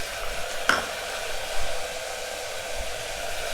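Chopped tomatoes frying with onions in hot oil for a mutton bone curry, giving a steady, soft sizzle with a single sharp clink early on and faint stirring noises.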